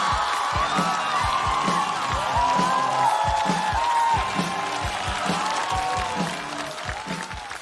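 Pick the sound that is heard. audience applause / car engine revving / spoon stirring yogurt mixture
audience applause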